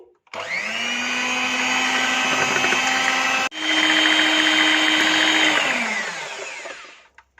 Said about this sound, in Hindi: इसके साथ ही 2-3 मिनट के लिए मज़ीद इसे बीट कर लेंगे।